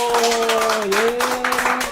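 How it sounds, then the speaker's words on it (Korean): A group in a laughter exercise session claps hands in a rapid, steady patter while a sustained vocal tone carries over the clapping. "박수!"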